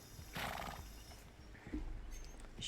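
A horse in the Red Dead Redemption video game neighs and whinnies loudly, with hoof clip-clop sounds, one burst near the start and another call toward the end.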